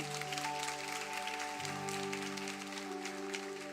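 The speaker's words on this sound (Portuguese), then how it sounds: "Aplauda Jesus" A church congregation claps during a sermon, a faint, steady patter of applause under sustained organ-like keyboard chords.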